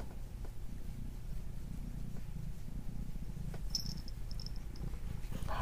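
A cat purrs close up in a steady, continuous low rumble that lasts throughout, with a few faint high chirps near the end.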